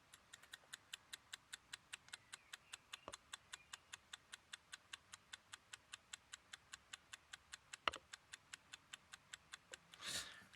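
Clockwork of a Horstmann VMK time switch ticking steadily and evenly, held close to the microphone, with a faint knock and a brief rustle near the end and no talking.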